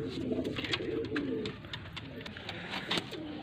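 Soft, low pigeon cooing repeats over a steady background hum, with faint scattered chirps; a voice murmurs briefly.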